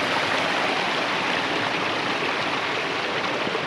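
Water rushes steadily through a washed-out beaver dam near a piece of birch tree, a constant, close, full-bodied stream roar with no pauses and no voices.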